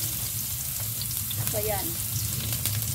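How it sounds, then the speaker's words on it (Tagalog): Garlic sautéing in hot cooking oil in a pan, a steady close sizzle and frying hiss throughout, with a brief voice and faint utensil clinks over it. "so igisa lang natin yung ating garlic"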